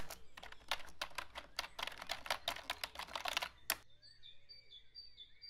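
Rapid clicking keystrokes on a computer keyboard, close and crisp in an irregular burst, stopping abruptly, after which faint chirping lingers in the background.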